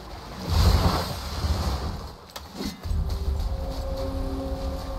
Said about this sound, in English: never seen a waterfall so big